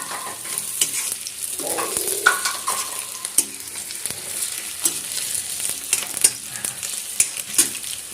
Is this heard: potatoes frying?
yes